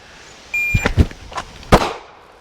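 Handgun fired during a shooting drill: a few sharp, loud reports in quick succession over about a second, then one more crack after a short pause. No talk.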